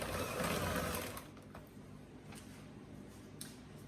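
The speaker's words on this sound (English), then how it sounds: "I'm going to use this hand mixer to mix all of this together" Electric hand mixer beating cream cheese and sugar for a toasted coconut lime icebox cake: a steady whirring motor buzz for about a second, then quieter mechanical ticking and clicking.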